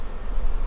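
A guard bee buzzes continuously and close at a beehive, giving a steady, droning hum through the whole short moment with no speech.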